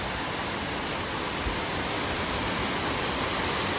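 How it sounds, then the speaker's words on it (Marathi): A steady, dense roar of falling water fills the whole clip, loud and unbroken, like standing close to a waterfall. "स्टेप बाय स्टेप असा पडतोय धबधबा"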